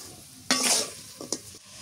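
Country chicken is sautéed with salt for pulao. A loud burst of sizzle lasts about half a second, followed by two short clatters of a spoon against the pan and a quieter background hiss.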